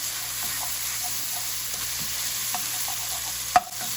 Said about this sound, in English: You just keep mixing it until it's all loose enough.